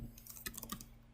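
A quick, faint run of key clicks from someone typing on a computer keyboard, lasting about a second.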